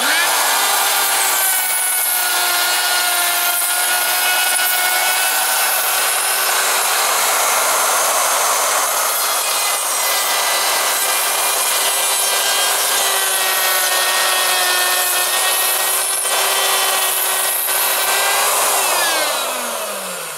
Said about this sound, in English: We'll sand that out